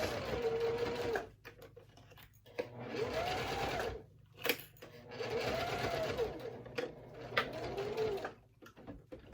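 A domestic sewing machine stitches a wallet seam in three bursts of rapid whirring, separated by short pauses, with small clicks of handling in the gaps.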